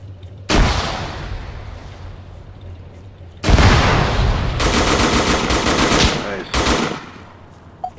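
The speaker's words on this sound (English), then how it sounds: "Shot coming from the little house there" Bursts of automatic gunfire in the WWII-era Arma 3 King of the Hill 1944 mode: a sharp crack, then a long loud sustained volley of rapid shots with a brief follow-up burst, close and dominant.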